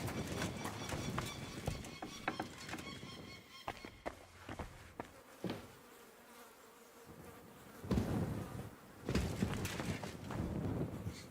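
Horse hooves clip-clop in Kingdom Come: Deliverance II, with uneven clusters of hoofbeats against an outdoor background that dips quiet midway before the steps return more strongly toward the end.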